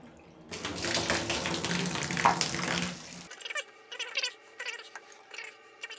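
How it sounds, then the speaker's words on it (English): Water runs through shower plumbing, a steady rushing flow for about three seconds that then stops, leaving faint drips and small knocks. "Run some water through this first."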